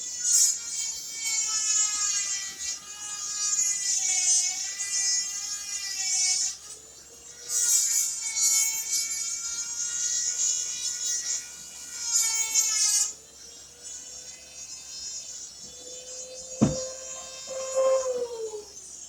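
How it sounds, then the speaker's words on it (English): Dremel rotary tool grinding the edge of a wooden bow, a high whining motor that rises and dips in pitch as it cuts in bursts, with a few short pauses and a sharp knock near the end. "all I've done is just take my Dremel and make a little bit more of that edge functional"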